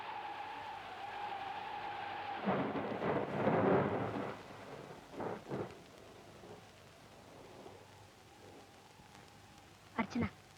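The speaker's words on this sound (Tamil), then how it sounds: "வெளியே காத்து அதிகமா இருக்கு, மழையும் பெய்யுது." Stormy night in a 1980 Tamil thriller film, with rain and gusting wind: a steady wash of rain under a loud rumbling burst of thunder, a few softer rumbles after, then a sharp knock-like crack near the end.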